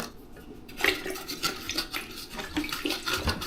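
Sugar stirred into water in a cup for homemade bio enzyme, a spoon clinking and scraping against the container with soft sloshing, several close, moderately quiet strokes.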